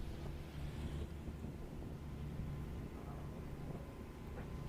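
Steady strong wind buffets the microphone at an airfield during a STOL short takeoff and landing competition, a constant broadband rush with no voices.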